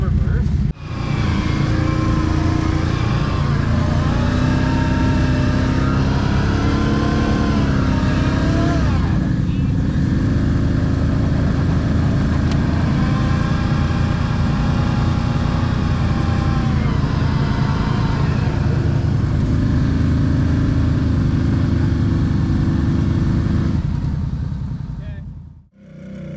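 An off-road vehicle reverses and then accelerates through mud, its loud close engine droning and revving with rising and falling pitch for most of the stretch before cutting off near the end.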